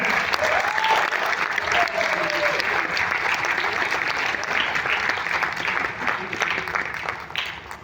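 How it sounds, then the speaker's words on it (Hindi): Audience applause following a stage play, a steady, dense wash of many hands clapping for nearly eight seconds before thinning slightly at the end, with a faint voice underneath. "प्लीज़ अपने इस भरपूर तालियों में उन्हें बताइएगा मुक़द्दस मलिक।"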